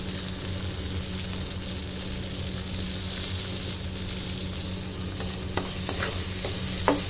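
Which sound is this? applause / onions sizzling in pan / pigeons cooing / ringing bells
onions sizzling in pan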